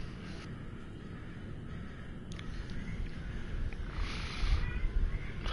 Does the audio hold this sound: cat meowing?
yes